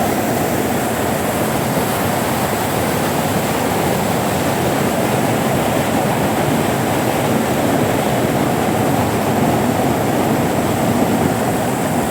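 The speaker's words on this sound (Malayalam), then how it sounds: "ഈ റോഡിൽ നിന്നുള്ള മലവെള്ളമാണ് കേട്ടോ മലവെള്ളം വന്നിട്ട് ഈ ഡൗൺ ട്രാക്കിലേക്ക് ഒലിച്ചിറങ്ങിയിരിക്കുകയാണ്" Mountain floodwater pouring off a road and down onto a railway track during the Wayanad landslide disaster, a loud, continuous rushing roar that stays steady throughout, with no voices.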